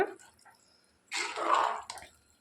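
About three-quarters of a cup of water goes into cabbage curry in a pressure cooker, a short close splashing pour lasting around a second after faint kitchen sounds.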